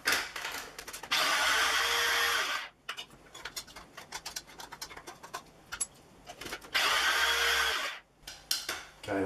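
A kitchen blender whizzes a Mexican chicken spice rub for fajitas in two loud, close bursts of whirring grind, each a little under two seconds, with quieter handling clatter and knocks in between.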